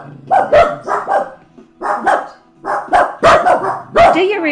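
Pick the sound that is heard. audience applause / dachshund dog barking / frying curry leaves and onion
dachshund dog barking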